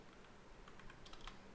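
Typing on a computer keyboard while coding, a faint patter of soft keystrokes over steady background hiss, with no voices.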